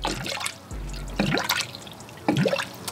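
Water Wetter coolant additive drips and splashes into a car radiator in three short bursts, each a gurgling pour of liquid separated by brief pauses.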